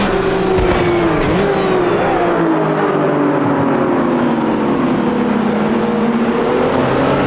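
Race car engines roaring close by in the Automobilista 2 racing game, with a Porsche running alongside during a 60-car AI race; a loud sustained engine drone with a shifting pitch, accompanied by faint tire squeal.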